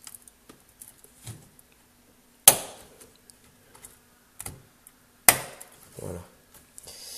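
A PC part is pressed and clipped onto a motherboard, lined up with its keyed notch: two sharp, close snaps a few seconds apart, with light plastic clicks and handling taps around them and no talking.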